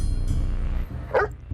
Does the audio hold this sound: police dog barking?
yes